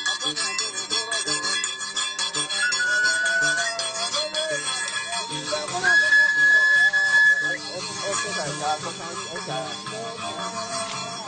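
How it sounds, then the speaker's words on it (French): Whistles blown by a Donso hunters' brotherhood of the Mandé to announce a hunt's victory ring out as sustained high tones, with two clear long blasts. They sound over a dense, loud bed of other sound and voices. "Les sifflets retentissent pour annoncer aux animaux de la brousse la victoire des chasseurs"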